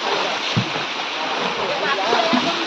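Water pouring steadily out through a pipe at a fishing spot, a dense continuous rushing gush, close and loud, with a couple of brief low knocks.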